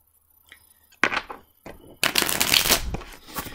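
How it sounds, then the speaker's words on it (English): Tarot cards are shuffled in two quick riffling bursts, close and crisp, after a short quiet stretch with no talking. "we're going to do 2 more shuffles, because you like to hear that shuffle"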